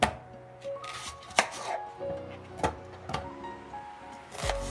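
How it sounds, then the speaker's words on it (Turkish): A knife chops an onion into small cubes on a board in irregular sharp strikes, close up, with small clatters and a low hum between cuts. "Soğanımızı şöyle küçük küçük küp küp doğrayalım."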